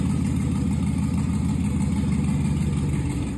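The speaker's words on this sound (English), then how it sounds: "I know I have a V8, but I think it sounds louder than usual." A V8 truck engine runs steadily close by, its deep low rumble loud and constant throughout with no breaks or talk.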